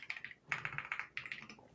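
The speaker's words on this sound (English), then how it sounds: "Sorry about the typing." Quick clattering taps on a computer keyboard, close and fairly quiet, coming in three short bursts of rapid keystrokes with brief pauses between them.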